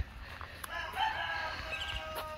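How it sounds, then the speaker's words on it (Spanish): Chickens wandering outdoors near a neighbor's former house, with a rooster crowing and hens faintly clucking at a distance over steady ambient background noise, no talking. "Aquí donde vivía el vecino, miren, ahí andan los pollitos."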